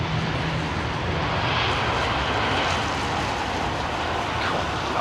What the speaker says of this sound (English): These little CFM 56 engines with the